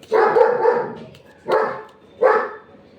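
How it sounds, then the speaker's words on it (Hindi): A dog outside barks loudly three times, one long drawn-out bark followed by two shorter ones with brief pauses between, fairly close by. "अब इतनी तेज़ तेज़ ये भौंकने लग पड़ा है।"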